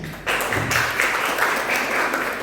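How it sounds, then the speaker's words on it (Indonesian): A church congregation at a Sunday service bursts into applause after a short quiet moment, then keeps up a dense, loud clapping that stays steady to the end. "Tepuk tangan dong buat Tuhan"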